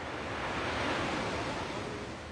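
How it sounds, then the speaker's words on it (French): Ocean waves washing onto a beach in Mexico, a steady broadband roar of surf with some wind noise, continuous and fairly close, with no voices. "Vous allez écouter les vagues."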